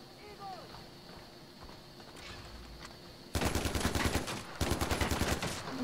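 Rapid automatic gunfire in Far Cry 4 erupts suddenly after a quiet stretch, loud dense bursts with a brief gap, following a calm ambient opening.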